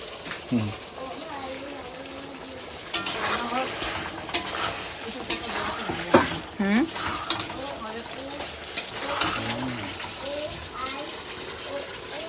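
A meat curry simmering in a kitchen pan, with a spoon scraping and clinking against the metal in irregular strokes under steady background sizzle while someone talks over it.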